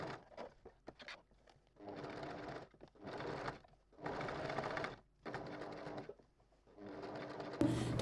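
A sewing machine stitches a jersey raglan sleeve for a child's dress, running in several steady bursts of rapid mechanical whirring separated by short pauses, close and clear.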